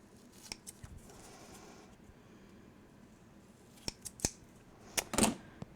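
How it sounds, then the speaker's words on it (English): Scissors trim paper for a scrapbook album, with several close, crisp snips and a quick cluster of cuts near the end, no talk. "So I'll just finish trimming it up with my scissors."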